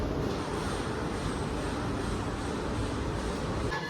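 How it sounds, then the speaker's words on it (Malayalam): A Himalayan express train pulls into a railway platform, giving a steady, loud, broadband rumble and roar that lasts the whole time with no pauses. "അപ്പോൾ നമ്മുടെ ട്രെയിൻ എത്തിക്കൊണ്ടിരിക്കുവാണ്. പ്ലാറ്റ്ഫോമിലേക്ക് എത്തി."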